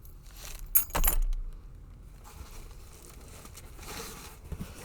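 A bunch of keys jangles briefly and loudly near the start while a lock-picking hobbyist sorts through lock packages. Softer rustling and handling noises follow.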